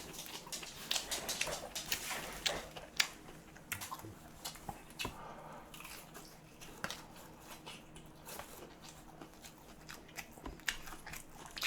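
Someone wearing surgical gloves eats Mom's Touch boneless fried chicken by hand. Close crunchy bites and wet chewing come in irregular bursts, with only faint murmurs between them.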